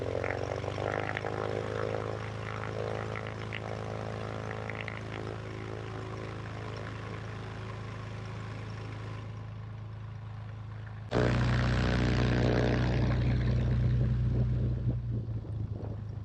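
A propeller airplane's engine drones steadily throughout, then jumps abruptly louder and rougher toward the end as power comes up, with no speech over it.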